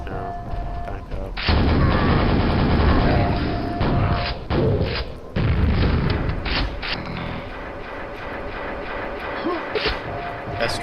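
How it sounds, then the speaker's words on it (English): Rocket launcher explosions and weapon fire from the retro shooter Quake rumble in loud, dense bursts, with a few sharp cutoffs and heavy booming layered throughout. "Rocket launcher is really the best weapon in this game."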